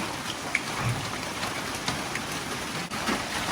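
Steady rain falls outdoors near a termite mound, a dense even hiss of drops on surfaces with occasional louder individual splats.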